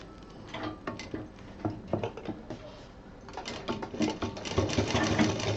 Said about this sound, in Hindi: अब ऊपर नीचे दोनों साइड में डबल मशीन चलानी है